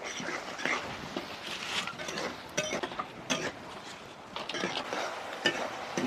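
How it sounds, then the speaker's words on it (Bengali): Tomato, green peas and spinach curry being sautéed in a pan, a continuous close sizzle with frequent scraping stirs of a spoon against the metal, busy and uneven, no talking. "এবার খুব ভালো করে এইভাবে কষে নিতে হবে টমেটোটাও গলে যাবে আর মটরশুঁড়িটাও সেদ্ধ হয়ে যাবে"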